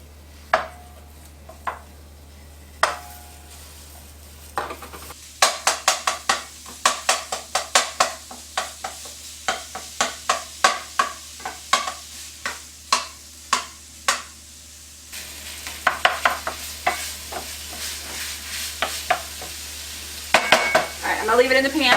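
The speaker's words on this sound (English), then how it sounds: "my saucepan is hot, and we're just going to break it up and brown the sausage" Pork sausage from a 16-ounce roll browns in a hot saucepan as a utensil breaks it up, sharp rhythmic knocks and scrapes against the pan over a constant sizzle, growing busier toward the end.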